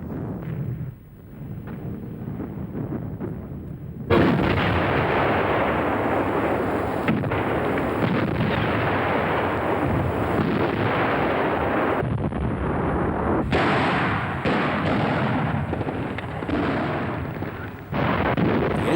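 German 88mm guns firing in an artillery role, heavy booming blasts and rumbling reports with sustained roaring noise over nearly twenty seconds, loud and dense, with faint narration early on.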